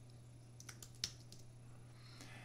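Quick, light keystrokes on a computer keyboard as a command is entered, a few soft clicks spaced irregularly over a steady low electrical hum, no talking.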